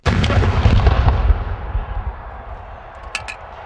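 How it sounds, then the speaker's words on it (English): A single loud cannon blast booms up close, its heavy low rumble rolling out and fading over a few seconds. "That's how you fire the cannon."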